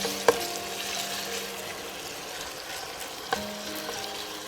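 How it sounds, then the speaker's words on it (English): Steady close-up sizzling of chicken frying in a pan, with two sharp clinks of a utensil, no talking. "Chicken is nicely sizzling."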